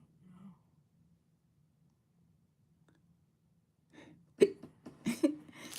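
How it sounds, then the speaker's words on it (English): A person hiccuping: after near silence, a few sharp, abrupt bursts come close together near the end, close and fairly loud. "I got hiccups."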